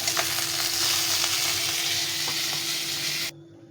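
Fish fried in oil for a fish curry, all pieces at once, producing a loud, even sizzle with occasional crackles that cuts off abruptly near the end.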